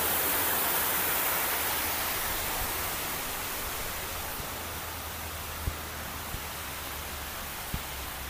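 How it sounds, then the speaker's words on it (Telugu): A waterfall at Gunung Lang Recreational Park in Ipoh, Malaysia, heard close by as a steady, dense roar of falling water that continues unbroken with no voices and only a few faint knocks underneath. "వాటర్ ఫాల్కి ఇంకా దగ్గరికి వచ్చాం"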